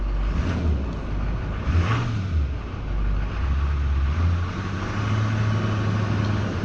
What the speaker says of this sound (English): So you can see when I rev it, it's responding quickly and pretty accurately